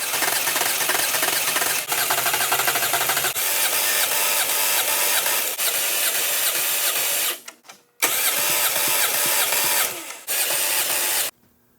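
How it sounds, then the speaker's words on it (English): Engine of a 2000-2013 Chevy Silverado cranking over by starter during a compression test, a loud steady ratcheting churn in long bursts with brief pauses between cranks, no talk. "we'll go ahead and crank it over again and see what we get on that cylinder number 3"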